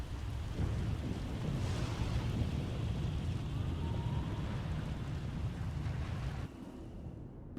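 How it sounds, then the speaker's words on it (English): A heavy storm in Star Wars: The Old Republic: a continuous deep rumble of thunder over dense rain, loud and steady for several seconds before dropping slightly in level near the end, with no talk. "Looks like the storm's not letting up anytime soon."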